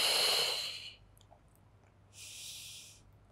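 Paced breaths during a beginner Pilates posture workout at home: a long, loud airy exhale at the start, a quiet pause, then a second softer breath, close to the microphone with no talking.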